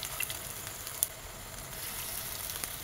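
Malabar spinach and onion fritters fry in hot oil over lowered heat, a soft, steady crackling sizzle with scattered pops, fairly faint and close, no talk.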